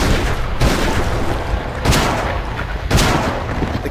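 Gunfire from the PSP horror game Silent Hill: Origins booms in three loud, heavy blasts over a dense, roaring background.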